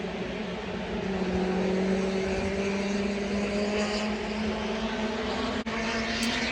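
Mazda Miatas racing around Laguna Seca, a steady buzzing engine drone from distant cars with pitch rising and sliding as they pass, continuous and moderately loud.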